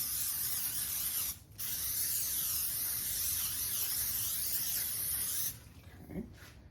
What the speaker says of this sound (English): we're gonna go ahead and spray the pan right now